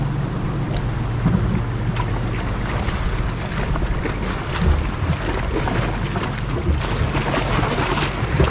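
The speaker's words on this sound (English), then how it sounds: "There's another boat come in too, big old sailboat." A big sailboat comes in near a shoreline fishing spot, heard as a steady low engine drone mixed with wind buffeting the microphone and washing waves, continuous and fairly loud throughout.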